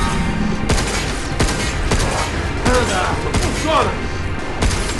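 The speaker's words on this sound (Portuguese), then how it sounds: "use sua arma, mirar disparo, unidade primária para atacar." Weapon fire in the sci-fi game Pragmata on a lunar station: a rapid run of loud, sharp shots and booming impacts over several seconds, with someone talking excitedly over the gunfire.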